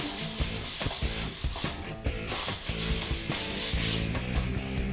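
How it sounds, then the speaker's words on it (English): Steady back-and-forth rubbing of sandpaper on a repaired deer antler, a dense scratchy rasp that keeps going without pause, close and fairly quiet, with no voices. "just keep sanding until it looks perfect"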